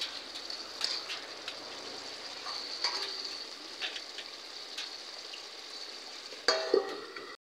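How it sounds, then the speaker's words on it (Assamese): Potatoes and spinach fry in a pan with a steady close sizzle, broken by scattered clicks and scrapes of stirring and a louder clatter near the end; no one speaks. "এতিয়া মই ঢাকনখন আকৌ খুলি ধুনীয়াকৈ লৰাই ল'লোঁ।"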